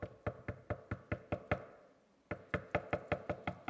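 Sharp knocks on a door land in a quick even series of about seven, then a short pause, then another run of about seven, close and crisp.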